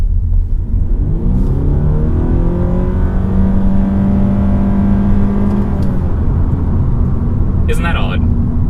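A 2020 hybrid compact sedan in sport mode pipes an artificial engine note into the cabin: a synthetic drone swells and climbs in pitch over a constant loud road rumble, then fades, with a brief click near the end.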